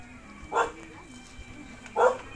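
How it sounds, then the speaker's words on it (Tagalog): A dog barks angrily at visitors approaching a muddy rural house, two short sharp barks about a second and a half apart, moderately near, over faint background noise. "Ayan, nagagalit na nga ang aso."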